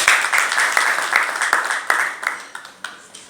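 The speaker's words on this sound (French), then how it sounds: "Merci de l'applaudir comme il se doit." Audience applause at a cocoa industry panel in Côte d'Ivoire, a fairly loud burst of claps that fades over a few seconds.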